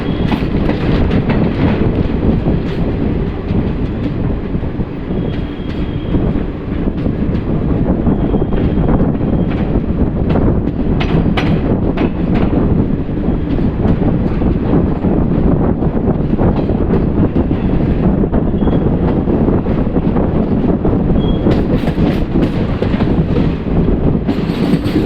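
The 12195 Agra Fort–Ajmer intercity express runs loud and close, a constant rumbling roar with rhythmic wheel clatter, occasional squeals and wind buffeting throughout, with no voices.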